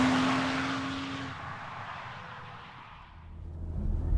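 A 2022 BMW M440i xDrive Gran Coupé drives on the road, its engine a low, unobtrusive hum with a steady tone that fades, then swells again as the car picks up.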